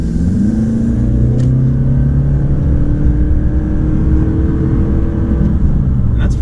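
A 2019 Toyota RAV4 Hybrid with a 2.5-liter four-cylinder accelerates in sport mode, its engine droning steadily with pitch rising over several seconds, heard from inside the cabin with road rumble underneath.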